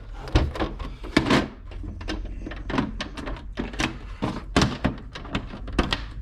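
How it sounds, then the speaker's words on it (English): Lids of a plastic BCW 3200-count trading card storage bin are folded closed, producing a rapid, close series of hollow plastic clacks and thunks with uneven rhythm. "Once it's all put in there, fold the lids over,"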